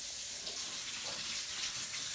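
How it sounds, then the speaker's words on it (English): Hot tap water gushes steadily into a still-hot pan used for caramel sauce, a continuous bright rush of running water with no pauses or voices. "you want to rinse it with hot water"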